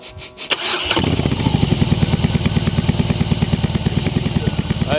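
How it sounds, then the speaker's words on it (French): A BMW R motorcycle with a custom silencer and dB killer fitted starts up, then settles into a close, steady idle with a regular pulsing beat that carries on to the end. "Et maintenant le son avec le dB killer."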